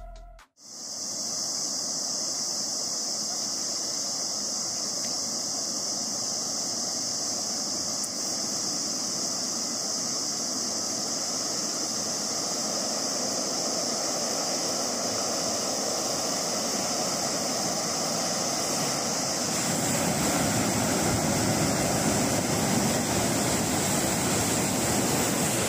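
Flash flood water roaring down a dry riverbed in Oman: a loud, steady rushing wash that fills the scene from the start and swells heavier and rougher toward the end, with no voices.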